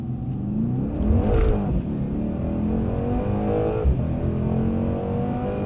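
A Mercedes-AMG C63 S accelerates hard on a track, its engine revving loud and close from inside the car as the pitch climbs through the gears, with no talk.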